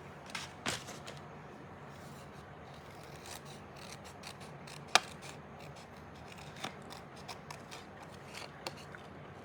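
Scissors snipping a papercraft piece by hand at a desk, fussy cutting a wood-plank style border: faint, irregular short snips and soft paper rustles, fairly quiet and close, with no talking.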